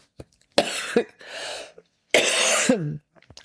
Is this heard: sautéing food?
no